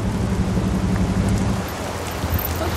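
Rain falls steadily at an outdoor fish farm, a dense hiss of drops over a low rumbling background that eases slightly halfway through.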